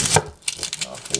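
A knife cuts the ends off an onion on a cutting board, giving a few sharp, close chops with quiet gaps between them.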